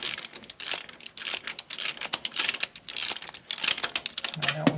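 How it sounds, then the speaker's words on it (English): A ratchet loosening a stud bolt on the 6.5L diesel engine of a surplus Humvee during injection pump removal, with rapid, close, repeated clicking strokes in a steady back-and-forth rhythm. "Everyone knows how to loosen a bolt"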